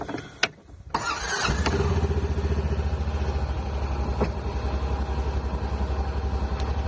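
A Honda Pioneer 700-4 utility vehicle engine cranks over and catches, then settles into a steady, moderately loud rumbling idle that carries on to the end, recorded near the machine in snowy work conditions.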